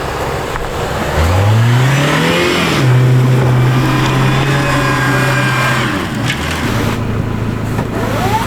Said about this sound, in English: trying to drive the Colorado out of the snowdrift that it is encased in